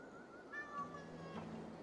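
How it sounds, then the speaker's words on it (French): A cat meows in Assassin's Creed Valhalla, one short rising meow followed by a second drawn-out cry, faint and close over a quiet game backdrop with a low hum. "Quel joli chat."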